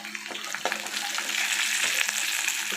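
Bay leaves and cardamom pods sizzling in hot oil in a home kitchen, with a continuous bright crackle close to the pan and a few small pops and clinks.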